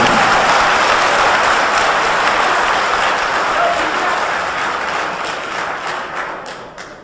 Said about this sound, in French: Et je vous demande de l'applaudir.